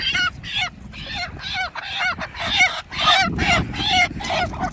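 A rooster being chased and caught on a farm gives repeated loud, harsh squawks in quick bursts, with rustling and scuffling underneath throughout.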